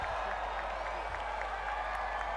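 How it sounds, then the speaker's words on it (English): A big crowd at the 2018 Thai MotoGP podium, set opposite a huge grandstand, cheers and applauds in a steady, distant roar of clapping and voices that holds throughout. "The crowd go mad"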